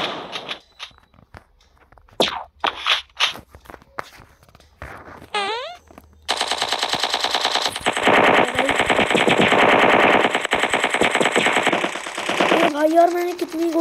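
Rapid machine-gun fire in the video game Strike Fortress Box, opening with scattered single shots and footsteps, then a loud, sustained burst of automatic gunfire that runs for several seconds.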